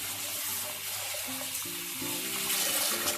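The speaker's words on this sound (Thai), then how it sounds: "เอามาล้างน้ำพี่น้อง เอามาล้าง" Rice being rinsed under running tap water in a sink to make sushi, a steady close splashing rush with small sloshing changes, and no talk.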